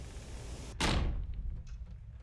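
A video game door bangs once with a sudden, loud, booming thud that rings and fades over about half a second, set against a steady low ambient hum.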